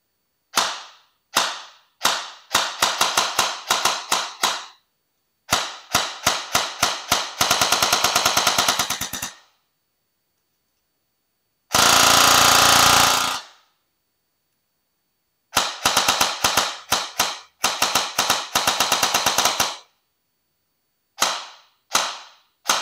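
A KWA Venom Mod 2 airsoft gun fires outdoors on a range in loud, close, sharp snapping shots, both single rounds and rapid bursts, with one longer sustained burst in the middle and pauses between strings.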